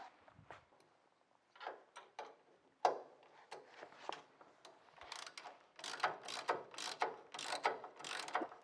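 Ratchet wrench tightening a control arm bolt on a 1966 Chevrolet Nova during a Total Cost Involved Pro Touring IFS install, heard as close, uneven bursts of rapid clicking that grow busier and louder toward the end, with no talk.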